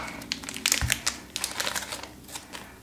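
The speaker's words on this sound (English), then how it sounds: "we are going to cut our bag open so that we can get our supplies out" A plastic bag of K'nex pieces for a Mario Kart bike set is cut open up close, giving bright crinkling and rustling bursts with a few sharp snips, no talking.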